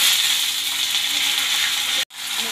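Mustard seeds and chillies frying in hot oil for dahi boondi, a close, steady crackling sizzle that runs continuously before cutting out abruptly near the end.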